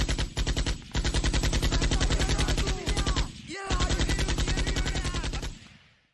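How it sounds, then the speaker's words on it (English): Rapid bursts of machine gun fire rattle loudly in long sustained strings, broken by a few brief pauses and ending in a fading tail, with no voices. "the Finns would barrage the enemy with machine gun fire from up high."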